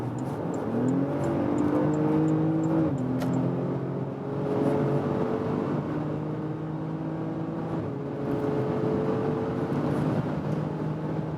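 A 2016 Porsche Cayenne GTS with a turbo V6 accelerates hard toward 200 km/h, its engine droning loud and steady from inside the cabin. Pitch climbs through the gears, with brief dips at the shifts.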